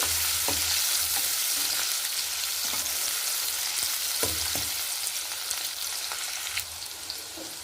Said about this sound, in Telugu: నూనె వేడైపోయిన తర్వాత ఉల్లిపాయ పచ్చిమిరపకాయ ముక్కలు యాడ్ చేసుకున్నాం ఇవి దూరగా వేయించుకున్నామండి